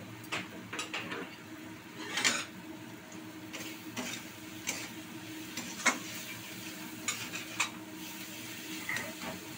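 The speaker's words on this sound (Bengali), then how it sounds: "আলু দিয়ে কষানো চলছে।" Potatoes with turmeric fry in a pan, a faint steady sizzle broken by scattered scrapes and clinks as a spoon stirs them at an uneven rhythm.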